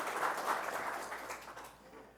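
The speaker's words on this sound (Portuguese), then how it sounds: "Uma salva de palmas para ele, gente." Audience applause welcoming a speaker on stage at an evening church event, a dense wash of clapping that stays fairly loud before fading slightly toward the end, with no voices over it.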